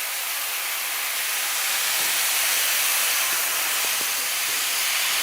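Water ladled gently into toasting arborio rice for mushroom risotto, producing a loud, continuous steamy hiss with a few faint soft clicks underneath and no talking.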